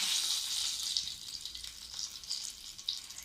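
Crushed cardamom pods dropped into hot oil for a kadai paneer, giving a steady close sizzle and crackle that flares in small bursts throughout, with no voices.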